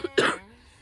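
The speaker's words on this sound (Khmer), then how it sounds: "អូយពីក្អក" A single short, sharp cough bursts out at close range, preceded by a small throat sound and trailing off into quiet room tone in a home kitchen during Khmer cake making.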